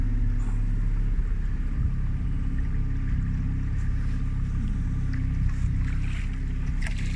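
A local motorboat passes on a river in a village of waterways, its engine a steady low drone that holds near and fairly loud for the whole stretch, with no talking.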